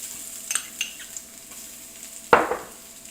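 Garlic dropped into hot frying oil while Japanese short ribs are being cooked sets off a sudden loud sizzle that fades slowly, after a couple of seconds of quiet kitchen clinks.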